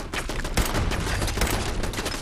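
Rapid, dense gunfire from a sniper rifle taken from a super mutant in Fallout 4, heard as a continuous, loud stretch of overlapping shots with no gaps.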